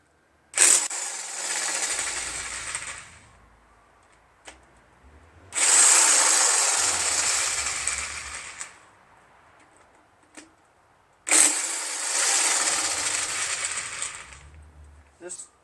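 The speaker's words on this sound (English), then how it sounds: "So now I'm just going to use my impact, because I tried to use the smaller impact and it wouldn't even budge the bolts." Three bursts from a 1/2 inch Harbor Freight electric impact wrench hammering on engine bolts while removing a blown Kohler 25HP V-twin from a Craftsman DYT4000 lawn tractor, each loud rattling burst lasting about two to three seconds with pauses between.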